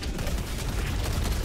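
Video game gunfire aimed at the engines of bot enemies, a dense rumbling barrage of rapid shots and low booms, continuous and fairly loud with no speech.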